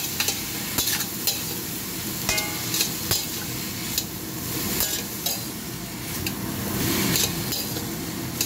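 Yupin being stirred and fried in a pan for Shanghai noodles, giving a steady close sizzle broken by repeated scraping stirs and light metallic knocks of utensil against pan.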